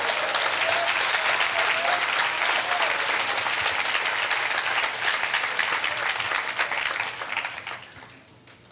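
A church congregation claps loudly and steadily during an evangelistic sermon, with a full burst of applause that holds for several seconds and then tapers off near the end.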